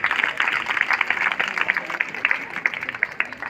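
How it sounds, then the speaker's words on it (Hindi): Dense, steady applause from a crowd greeting the host at a Bird Day gathering in Tal Chhapar, many hands clapping together at close range without a break. "जोरदार तालियां इनके लिए"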